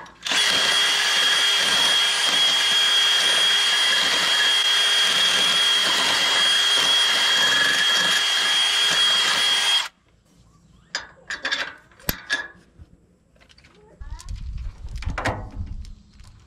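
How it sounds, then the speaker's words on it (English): A power drill with a bit bores out a worn stabilizer bar pin hole on an old tractor, whining steadily and loudly for about ten seconds before cutting off, followed by scattered clanks and shuffling. "I'm going to try to clean it out a little bit with a drill bit right here."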